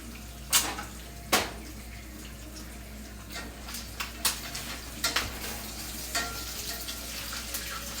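Meat sizzling in a frying pan during keto meal prep, a steady fizzing bed broken by several louder bursts as pieces are turned over, with no talking.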